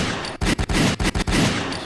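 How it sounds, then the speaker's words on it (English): Loud gunshot sound effects in a tight volley of several sharp blasts, close and punchy, each followed by a noisy decay, with no talk over them. "Throw another gunshot on there for me."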